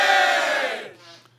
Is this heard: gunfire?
no